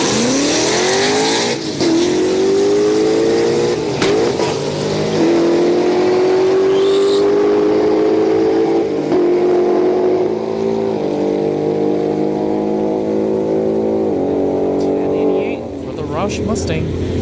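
A Roush Mustang with a supercharger blower and a Mustang 5.0 launch and accelerate down a drag strip at an Orlando street night, their engines roaring loud and steady with rising revs and gear changes over about fifteen seconds.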